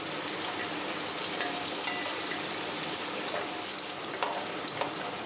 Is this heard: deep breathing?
no